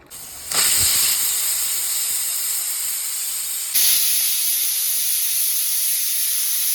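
Pressure cooker of chicken biryani rice lets out a loud, steady steam hiss close up. The hiss jumps in strength after about half a second and again near four seconds, with no talk over it.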